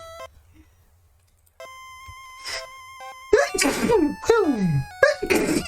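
After quiet electronic beeps and tones from a Pokémon video game, a sudden loud sneeze bursts out, followed by further sharp vocal outbursts over the beeping.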